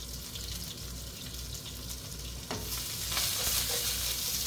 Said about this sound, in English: we'll saute our onions, garlic. So we'll start with the onions first.